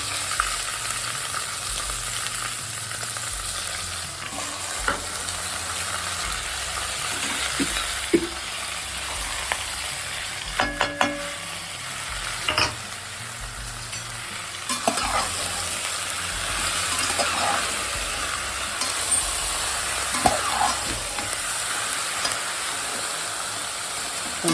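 Vegetable pieces fry in hot oil tempering seasoned with asafoetida, giving a continuous close sizzle with occasional spatters and brief stirring scrapes, with no voices.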